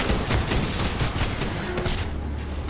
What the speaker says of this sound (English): This is a light machine gun I missed.